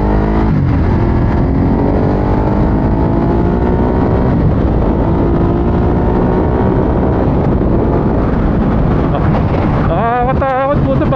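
A Ducati Hypermotard 939 SP motorcycle on a test ride roars loudly throughout, its engine pitch climbing and shifting through revs beneath heavy wind rush.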